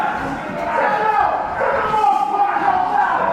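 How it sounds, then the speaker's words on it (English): Crowd at a UKW wrestling event roaring and shouting in a steady, loud wash of voices throughout, with no distinct individual words. "You hear JPR trying to rally this crowd and his partner into coming back here to make the tag"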